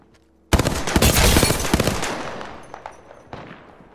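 A sudden loud burst of rapid automatic gunfire in the shooter Apex Legends, with a dense stream of close shots that tails off into a few scattered trailing pops.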